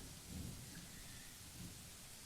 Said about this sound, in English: The rain falling fast, steady sheets, creating shallow puddles on the dirt path, drenching everything the eyes can reach.